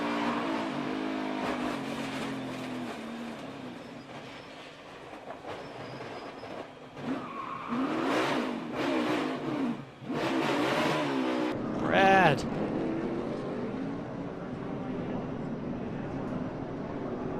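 NASCAR Cup Series race cars roar and rev at speed, then crash with loud rushing impacts, followed by engines accelerating again, with commentators talking over much of it.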